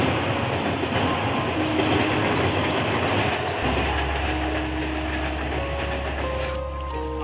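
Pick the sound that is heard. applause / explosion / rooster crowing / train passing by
train passing by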